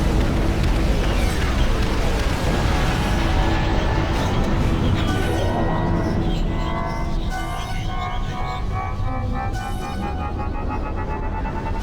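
An enemy Nexus blowing up in Ashes of the Singularity Escalation, a loud sustained roaring explosion that fills the whole stretch with dense broadband noise, with faint ringing tones emerging as it slowly thins out.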